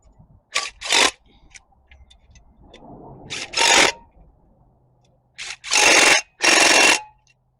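A power tool tightens bolts on an LS 5.3 motor mount during a Suburban crew cab engine swap. It gives five or six short, loud whirring bursts close by, with a brief scraping rumble between them.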